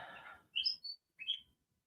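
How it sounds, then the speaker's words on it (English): A bird sings outdoors in a few short, bright chirping phrases, clear and moderately near, following a brief stretch of faint murmuring background. "I think you can hear that bird"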